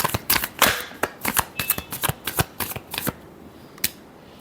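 Tarot cards shuffled by hand in a quick riffle, a rapid run of sharp crisp flicks that thins out into a final snap, close and clear with no talking.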